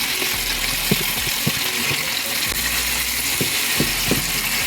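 Shrimp and potatoes fry in a pan for a bitter-gourd bhaji, giving a constant close hiss with sharp scraping clicks from a spatula at an uneven rhythm. No one speaks.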